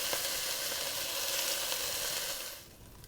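Beef pieces searing in a pan for beef and barley soup, a loud steady sizzle of hot fat close up that drops off sharply near the end.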